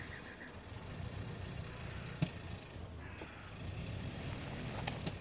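A rough, low, sputtering car engine in a video game, The Walking Dead, rumbles steadily throughout, with a sharp click midway and faint high beeps near the end.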